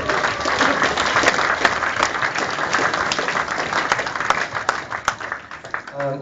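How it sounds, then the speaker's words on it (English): Audience applause for a football team at a player awards event, dense steady clapping throughout at close range with a few louder individual claps and occasional crowd noise. "I think they deserve a round of applause"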